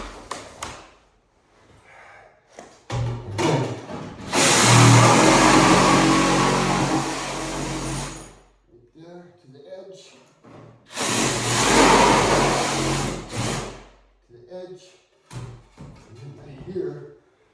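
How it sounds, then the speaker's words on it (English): A Sawzall reciprocating saw cuts an opening for a heat register in a hallway, running in two loud bursts of several seconds each, with short pauses and quieter handling noises between them. "Go to the Sawzall for a second."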